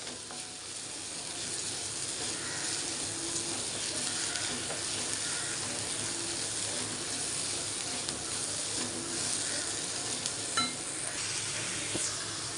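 Tender moringa (drumstick) leaves sauté in a pan on a gas stove, giving a steady, soft sizzle with faint stirring scrapes throughout, no talking.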